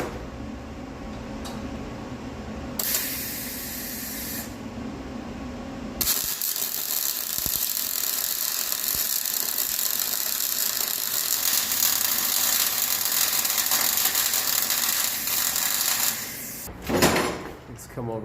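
MIG-style welding of metal coil mounts for a GM solid axle conversion, a steady crackling buzz lasting about ten seconds after brief mechanical handling noises, loud and close, with a short clatter near the end.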